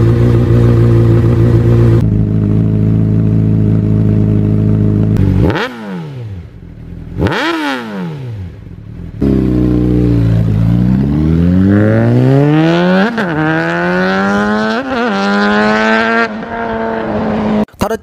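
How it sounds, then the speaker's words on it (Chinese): A Honda CBR600RR F5 sport bike's inline-four engine idles steadily, then is blipped twice with sharp revs that fall away, and is finally revved up in a long rising climb; loud and close, with no talking. "接下来给大家听一下发动机声浪。"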